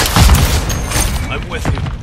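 A grenade blast booms loudly in a Call of Duty: Modern Warfare 3 team deathmatch, a deep low thud near the start with gunfire-like crackle and game voices calling out around it.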